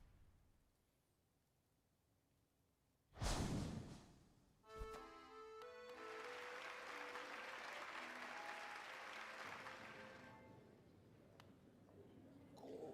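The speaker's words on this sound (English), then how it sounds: "Hear how the crowd adores you." A crowd in the video game Hollow Knight bursts into sustained applause after a sharp hit and a bright musical flourish, with the clapping swelling and holding loud for several seconds before fading.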